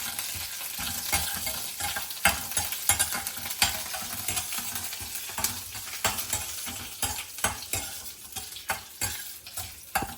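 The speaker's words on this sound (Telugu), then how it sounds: "చూసారు కదండి, పోపు వేగుతుంది కదా." Tempering spices sizzle and crackle in hot oil, with dried red chilli and curry leaves frying, alongside stirring scrapes; a steady close-up frying hiss with frequent sharp pops, no talking.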